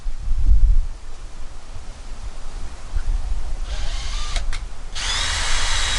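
A power drill whirs in short high-pitched bursts near the end, drilling inside a sailboat's anchor locker, after a few seconds of quiet background rustle.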